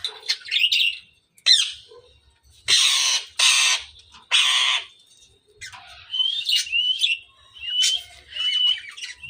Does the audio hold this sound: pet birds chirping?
yes